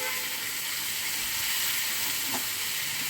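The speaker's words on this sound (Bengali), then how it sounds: "সব নিয়ে এবারে এটাকে শুকনো শুকনো নাড়াচাড়া করতে হবে" Pointed gourd with prawns dry stir-frying in a pan without water gives a constant, loud, hissing sizzle with a faint stir scrape midway.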